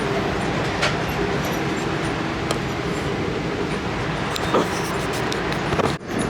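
A passenger train in Oklahoma City rolls steadily along the rails with a continuous low rumble and rattle, a few brief clanks breaking through near the end.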